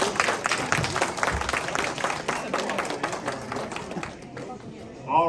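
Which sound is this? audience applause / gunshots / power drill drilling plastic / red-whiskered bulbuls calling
audience applause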